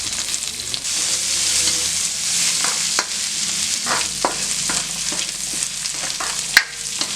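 Ingredients sizzle in a hot pan while a utensil stirs and scrapes, producing occasional clicks and knocks over the steady hiss.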